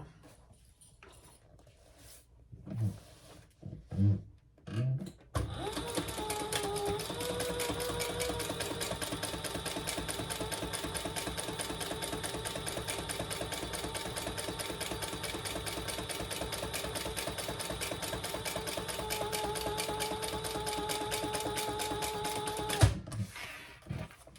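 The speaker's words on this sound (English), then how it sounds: "we're going to top stitch on the back panel" A sewing machine top stitches the back panel of a crossbody clutch bag, running in one long, steady, close-up whir after a few brief handling knocks, then stopping near the end.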